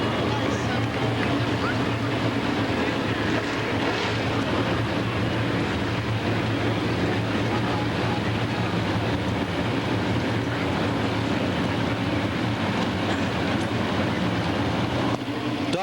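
A field of 28 dirt late model race cars thunders down the backstretch of a big mountain racetrack at a 1998 feature, a dense, continuous engine roar that holds steady and loud throughout.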